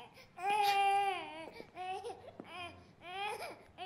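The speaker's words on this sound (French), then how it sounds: "Tu n'entends pas ses pleurs?" An infant cries in a domestic scene, with wailing bursts rising and falling over several seconds, fairly close and loud, with a short pause between cries.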